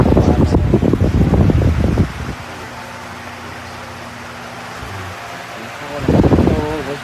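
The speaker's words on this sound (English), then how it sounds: "The fans blow out long air." A Lasko oscillating cyclone pedestal fan runs with a steady low whoosh and faint hum between stretches of close speech, the airflow noise continuing evenly underneath.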